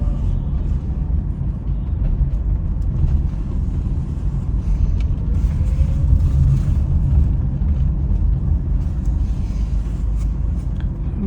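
A car rolls into a basement parking garage with a low, steady engine rumble that stays close and constant throughout, and no voices are heard.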